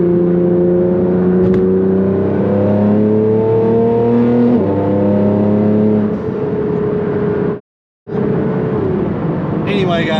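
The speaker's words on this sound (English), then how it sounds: "Got to hear the car a little bit though" Nissan GT-R engine revving on the road, loud and close, with rising and falling engine tones that shift in steps like gear changes, then a brief dropout and a quieter resumption near the end.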